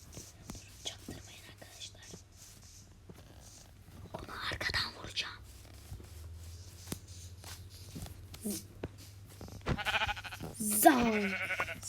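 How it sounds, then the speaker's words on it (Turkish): Soft whispered talk runs throughout while a couple of Minecraft sheep bleats ring out near the end, fairly close. "Aha gri koyun, gri koyun, gri koyun."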